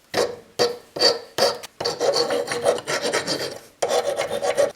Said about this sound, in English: Need to chamfer these ends so they go in better.